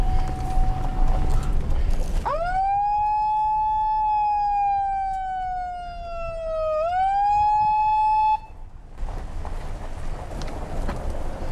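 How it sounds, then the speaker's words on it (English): A siren sounds at a nighttime camp, one long, loud, wailing tone that rises sharply, slowly sags, dips, then climbs again before cutting off abruptly after about six seconds, with background noise before and after. "Hit the siren."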